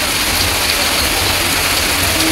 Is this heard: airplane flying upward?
no